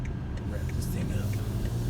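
Engine of a 2019 BMW X3 sDrive30i revving during a test drive, a steady loud low rumble with a mild swell, heard from inside the cabin.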